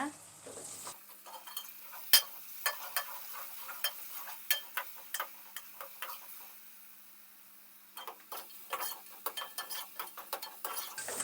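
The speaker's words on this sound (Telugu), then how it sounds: "ఇది పచ్చాసన పోయేదాకా వేయించుకుందాము" Ginger garlic paste and mint frying in oil in a pot, with a soft steady sizzle under frequent quick scraping clicks of a stirring spoon against the metal, fairly faint and close, with no speech.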